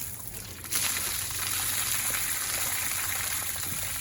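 Water being changed during gold panning at a river camp: a steady, close rush of flowing water that jumps louder after a moment and keeps a constant hiss to the end.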